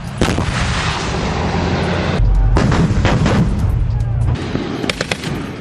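Naval long-range artillery firing at sea during military drills, heavy loud blasts and rumbling booms in quick succession, close and powerful.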